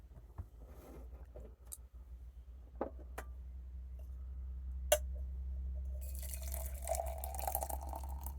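Water pours into large granules of a British ORP ration drink, starting as scattered drips and taps before a steady, faint filling splash builds over the last few seconds, with no voices.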